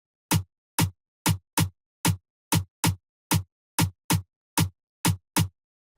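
In an FL Studio Bongo Flava beat, a snare drum layered with a rim sample strikes in a crisp repeating groove, a dozen sharp hits with brief gaps between them.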